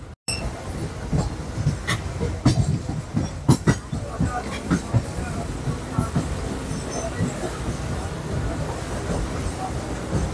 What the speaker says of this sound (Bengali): দমদম স্টেশন থেকে ট্রেন অলরেডি ছেড়ে বেরোচ্ছে নেক্সট হল্ট বরানগর রোডের দিকে।